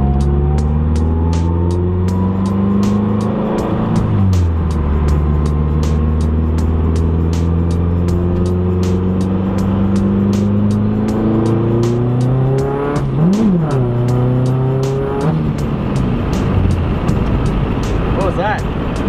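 A Mazdaspeed 3 fitted with a WOT box revs hard under full throttle, engine tone climbing through gears with flat-foot, no-lift shifts marked by quick dips and rapid popping, loud and close from inside the car.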